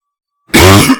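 One short, harsh cough erupts loudly and up close after a moment of silence.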